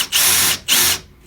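A power drill drives large flat washer head screws into wood during installation of a mixer lift, whirring loudly in two sustained runs with a short pause between, then starting again briefly.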